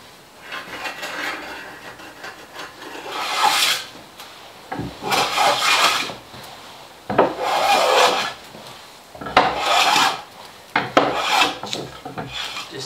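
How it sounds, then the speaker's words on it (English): A long hand plane shaves a couple of millimetres off reclaimed wood during a workbench build, giving about five loud, close rasping strokes with short pauses between them and no talking. "I got that nice long plane there, and I'm gonna just plane off that couple of mil"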